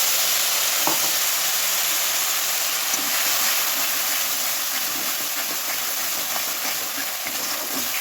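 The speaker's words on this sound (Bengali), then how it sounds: "দিয়ে এই কাজু বাদাম পোস্তর এই পেস্টটা আমি দিয়ে দিলাম" A paste of cashews and poppy seeds frying in ghee, giving a steady loud hiss and sizzle with faint scraping stirs throughout, no talking over it.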